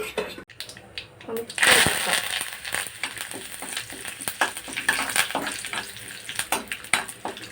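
Cumin, mustard seeds and curry leaves crackle and fry in hot oil for a coconut chutney tempering, a busy close spatter with scattered pops and light stirring clatter, steady throughout.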